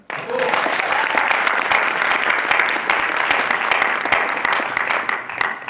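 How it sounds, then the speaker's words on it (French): A crowd at a university eloquence contest final bursts into loud, full applause that starts abruptly and stays dense and steady, with crisp individual claps throughout. "je vous demande d'applaudir pour France Gall"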